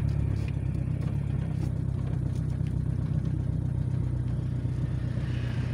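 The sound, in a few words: 1977 Ford Corcel car driving on a road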